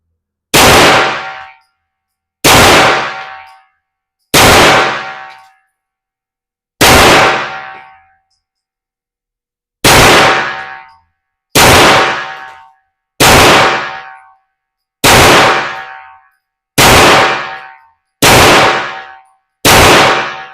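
A Glock 44 pistol fires Stingers ammunition from a 15-round magazine: eleven loud, sharp reports at an uneven pace, each trailing off in a ringing tail, with no talk between shots.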